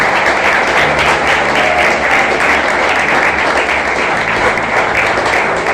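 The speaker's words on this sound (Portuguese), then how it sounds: "Vamos aplaudir o Senhor porque Ele é digno." A church congregation applauds during a Portuguese-language worship service, loud sustained clapping from a large crowd in a reverberant hall, dense and unbroken throughout.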